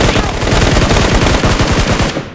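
Loud, close automatic gunfire in a battle royale video game on the Yasnaya map, a rapid unbroken stream of shots during a fight against two rushing enemies, cutting off abruptly at the end.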